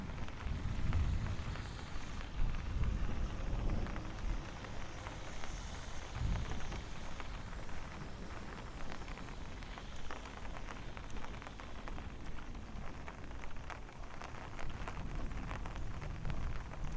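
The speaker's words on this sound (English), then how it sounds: "Sounds like the rain is starting to pick up a little bit." Heavy rain pours steadily onto a Brooklyn street in the Bay Ridge and Dyker Heights area during a thunderstorm, a dense continuous hiss with low rumbling bursts near the start and no voices.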